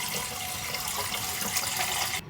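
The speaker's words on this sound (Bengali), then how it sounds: "চালটা প্রথমে ধুয়ে নিচ্ছি।" Rice being washed under a running tap gives a continuous close rush and splash of water that stops abruptly just before the end.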